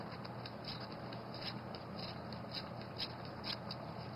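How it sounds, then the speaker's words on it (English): Worn-out scissors snip at a lawn mower cord in a series of quiet, crisp cuts, roughly two per second, close by over a faint background hiss. "These scissors are so worn out."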